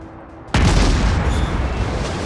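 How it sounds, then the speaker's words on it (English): The battleship North Carolina fires its guns in World of Warships: one sudden heavy boom breaks a quiet moment, then a long rumbling roar carries on. "North Carolina firing his guns"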